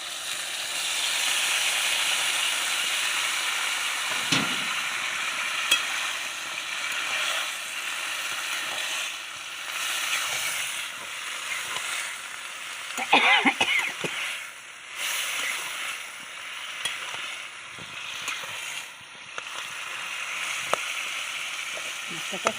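Chopped bottle gourd is tipped into a pan of fried fish and spices, setting off a loud steady sizzle and steamy hiss, with a burst of scraping and stirring midway.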